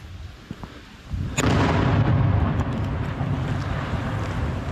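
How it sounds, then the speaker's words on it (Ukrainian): A sudden loud blast breaks over quiet ambience, followed by a sustained rumbling roar that lingers and slowly eases, like a nearby explosion, amid shelling in Kostiantynivka, Ukraine. "і постійно вибухає і стріляє"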